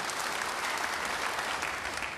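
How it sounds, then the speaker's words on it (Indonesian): A church congregation breaks into brief, thick applause during a sermon, a continuous wash of many hands clapping at even volume with no talking over it. "Beri tepuk tangan buat dia."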